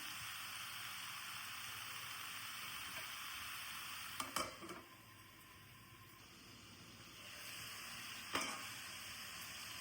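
Brinjal and dry prawn curry sizzling in a pan, a steady faint hiss of frying with a few sharp clicks of stirring, and no talk.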